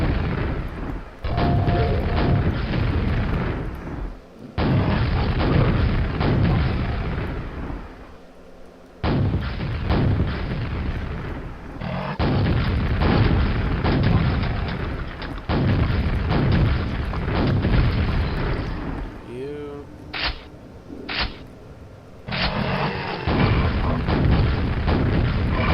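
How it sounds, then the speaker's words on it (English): Exploding spheres in the video game Quake set off a series of loud booming blasts with rumbling tails, one after another, broken by brief pauses and sharper bursts. "The explosion radius on these spheres is ginormous."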